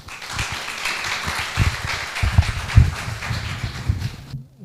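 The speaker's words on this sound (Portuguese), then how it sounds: "Quero convidá-lo e pedir uma forte salva de palmas." An audience claps steadily at a formal event on women's rights, a dense, sustained round of applause that stops abruptly at the end.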